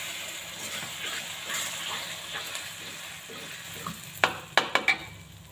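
Sugar and tomato frying in a pan give a soft, continuous sizzle while being stirred, ending with a few sharp clinks of a utensil against the pan.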